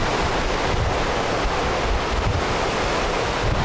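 Ocean surf washes onto a beach in Bali as a steady, loud, unbroken roar, mixed with wind buffeting the microphone.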